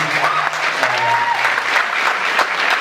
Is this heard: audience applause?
yes